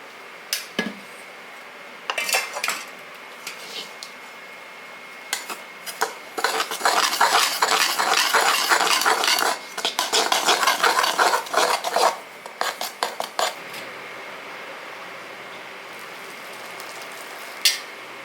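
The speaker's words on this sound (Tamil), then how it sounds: "இப்படி கையால் கிளறிக்கிங்க மாவை" Rice flour dough for idiyappam, with a little salt, is stirred by hand in a bowl, giving irregular scraping and rubbing bursts that build to a steady sustained stretch in the middle before thinning out, close up and with no talking.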